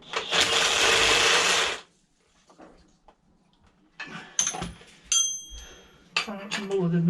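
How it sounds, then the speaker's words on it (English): An impact gun on the strut top mount nut of a Citroen C4 Grand Picasso during a front strut mount replacement: a loud, close whirring burst of about two seconds, then quiet clinks and metallic knocks of tools with someone talking. "I think I've wound it out enough to get the impact gun on it"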